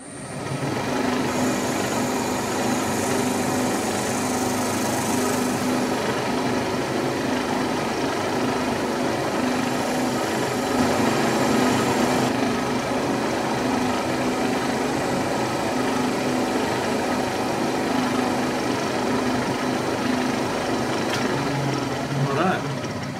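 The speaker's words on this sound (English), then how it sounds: "we'll machine them off to nominal length of 112" A lathe turns parts down to a nominal length of 112 with a steady, droning motor hum and a continuous cutting whine, carrying on at an even level throughout.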